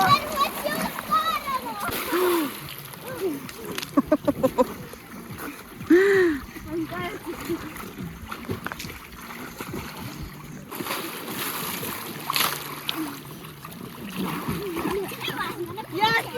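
Water splashing in a swimming pool as waves are made, with repeated close splashes and churning water while children talk and call out throughout.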